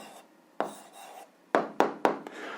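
Several short scratchy writing strokes at close range as an answer to an eighth-grade algebra exercise is written out, arriving in quick bursts with pauses between them, with no talking.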